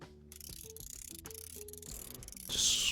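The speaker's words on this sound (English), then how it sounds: "Screws are coming out." Screws being backed out of a small electronic device during repair, a quiet run of fine ratcheting clicks from a screwdriver, ending in a brief brighter scrape.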